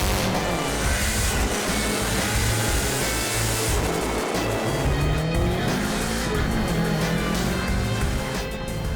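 A turbocharged car fitted with an externally gated Garrett GT35R turbo on a tubular exhaust manifold, with custom intercooler, exhaust and intake, roars continuously up close while its tires squeal loudly throughout.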